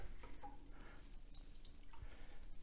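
Water poured into a pan of baby back pork ribs cooking in an oven, a faint continuous trickle and splash close by with no talking.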